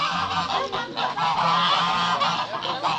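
Geese honk noisily in a loose, repeated chorus close by, overlapping calls coming in rapid bursts with no pauses for the full few seconds, outdoors at Guedelon Castle.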